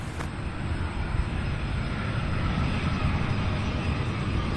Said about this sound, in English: We have that United flight there taxiing now